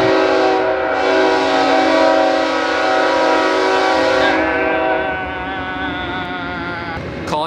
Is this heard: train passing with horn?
yes